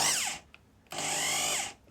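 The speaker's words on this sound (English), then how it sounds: "I get the drill to work." A power drill, foot-pedal operated, whirs up to speed, winds down, then runs again in a second longer burst, loud and close, while winding strings on a Waldzither.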